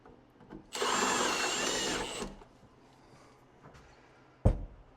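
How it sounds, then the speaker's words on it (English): Drill boring a hole in a rooftop tent, one steady whirring burst of about a second and a half, fairly close, with a sharp knock a few seconds later. "and then also drilling holes in the back"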